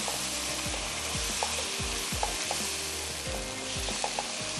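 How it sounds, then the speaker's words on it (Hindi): Flour roasts in a pan with chicken and mushroom, sizzling steadily while a spoon stirs and scrapes in repeated strokes, close and continuous with no talking. "मैदे को हम भून रहे हैं, चिकन और मशरूम"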